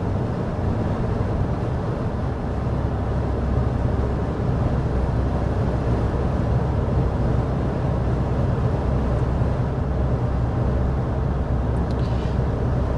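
Steady low road and engine rumble inside the cabin of a 2024 Toyota Tundra cruising at 55 mph, a constant broadband hum with no talking, fairly loud and unchanging throughout.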